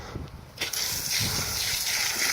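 Running water from a faucet gushes steadily into a poultry bath, a hissing, splashing flow that starts softly and grows fuller and louder after a moment.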